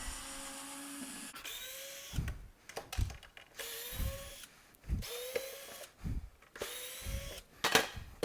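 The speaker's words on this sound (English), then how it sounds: "So you're going to want to take all these screws off." A power drill backing screws out of the cover of an auto-pulsing vacuum, short whirring bursts with rising pitch separated by brief pauses and clicks, close and moderately loud, no talk.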